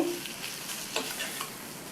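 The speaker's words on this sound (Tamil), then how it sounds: "இடையில மட்டும் அப்பப்போ திறந்து பார்த்து நல்லா கிண்டி விட்டுக்கணும்" Carrot fry sizzles gently in a pan as a spoon stirs it, a couple of soft scraping strokes over a low, continuous frying hiss.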